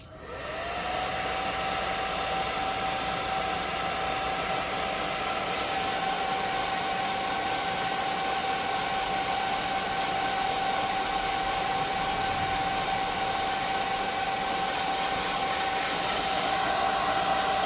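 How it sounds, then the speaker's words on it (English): A hot air gun set on low blows over freshly painted tiles, a constant close whooshing roar with a steady whining tone that starts abruptly and holds unbroken throughout. "I'm going to hit these with the hot air gun on low"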